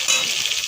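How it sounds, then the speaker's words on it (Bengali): Pointed gourd and potato pieces frying in hot oil, giving a brief steady hiss and sizzle at close range with no voices. "পটল আর আলু ভাজছি"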